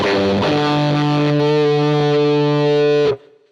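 A heavy, distorted electric guitar, EQ'd with a high cut, rings out a thick sustained chord for about three seconds before stopping abruptly, loud and alone.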